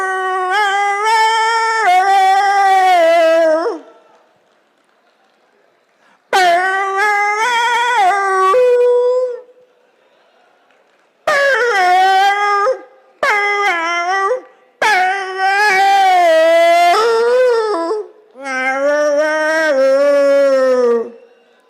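A voice imitates a dog howling a song, delivering long, wavering, melodic howls in several phrases separated by short pauses, loud and close, with no ordinary speech.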